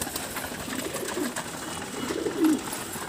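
Pet pigeons coo softly in a home loft at feeding time, with two low, rolling bursts close by over steady background noise.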